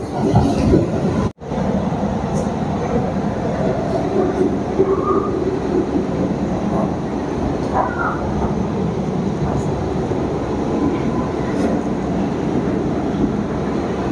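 A Kolkata Orange Line metro train runs steadily, a loud continuous rumble and rattle of the carriage, with a brief dropout near the start and faint creaks throughout.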